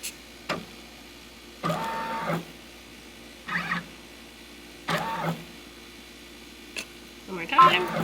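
A Brother Persona PRS100 embroidery machine stitches a baseball cap with short, separate bursts of quiet mechanical whirring and buzzing, each set apart by near silence, with sharp faint clicks in between.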